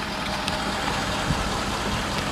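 Ford Lariat pickup truck on chrome 20-inch wheels with all-terrain tires, its engine idling with a steady low rumble, close and constant with no talk.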